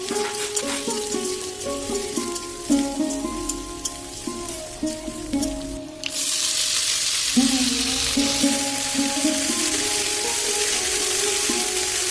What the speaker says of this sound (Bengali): এই সাইডে হচ্ছে মাছ ভাজা